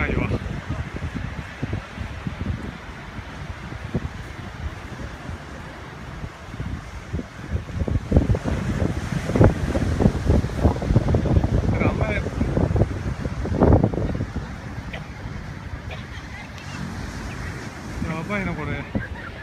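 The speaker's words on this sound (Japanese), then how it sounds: "波が高いわ。" High surf and strong wind at Miura Kaigan beach in July 2015, when swimming was banned. Crashing waves and gusty wind buffeting the microphone build into a loud, rolling roar, with voices heard at times.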